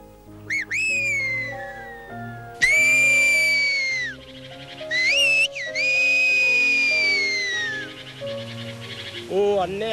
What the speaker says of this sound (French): il y a la fameuse langue sifflée de la vallée d'Aas qui est en voie de disparition donc